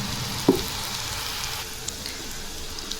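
Sev, a crisp chickpea-flour noodle snack, frying in hot oil over a low flame, giving a steady, even sizzle with a brief louder pop near the start and no voices.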